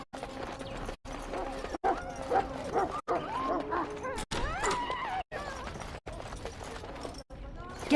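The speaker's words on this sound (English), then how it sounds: "Get that bloody mutt out of the larder." Dog barking in a castle larder in the video game Dragon Age: Origins, repeated yelps and barks over game music and background noise, with voices talking nearby.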